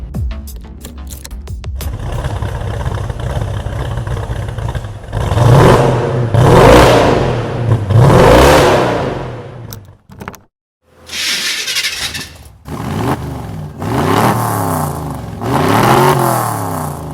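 Two Corvettes with 330 HP LT1 engines rev hard one after another in loud, close bursts that swell and fall, with a brief near-silent gap midway before more throttle blips.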